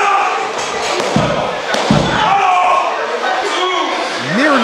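Heavy thuds of a backbreaker slam in a pro wrestling ring match, two impacts landing over a loud, continuous crowd roar with an excited commentator talking throughout.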